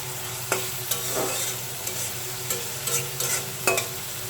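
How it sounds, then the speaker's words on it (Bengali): Onion, green chili and garlic sizzle in hot oil while a utensil stirs and scrapes the pan in several distinct, irregular strokes close by. "আমি এখানে পেঁয়াজ কাঁচা ঝাল রসুন দিয়ে দিলাম তেলের উপরে ভাজতেছি"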